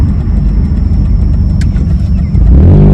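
Abandoned 2001 Chevrolet Cavalier driving along, a loud steady engine rumble and road noise with a low drone, no talking.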